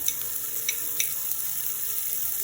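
Soya meat frying in a hot pan as chili powder is added, a steady close sizzle with a few sharp crackles and light stirring scrapes, no voices.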